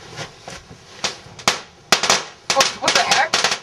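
Gunfire in a World War II film scene, a string of sharp cracking shots, sparse at first and then coming in quicker bursts at moderate loudness.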